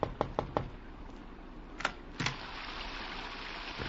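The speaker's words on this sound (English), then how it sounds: "I thought it was his knock that I heard on my door." Knocking on a door in London at night: a quick run of three sharp raps, then two more spaced knocks, over a steady soft hiss.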